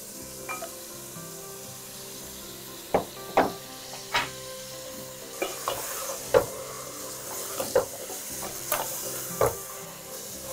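Meat for an Eid curry fries in oil with spices, a constant sizzle broken by repeated close scrapes and clanks of a spatula stirring the pan at an uneven pace.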